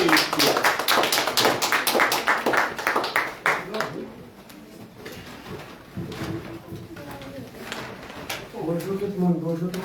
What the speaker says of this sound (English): sous vos applaudissements, mesdames et messieurs, donc, nous accueillons Dr Éric Pierre